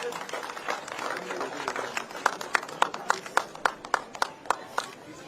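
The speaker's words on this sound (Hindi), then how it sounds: "जोरदार तालियों से" An audience at a government event in Keylong, with the chief minister releasing a coffee table book, breaks into applause that starts scattered and builds into rhythmic, fairly loud clapping.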